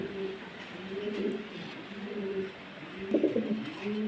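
Pigeons coo repeatedly in low, soft rolling phrases, close by, against a quiet hiss of background noise.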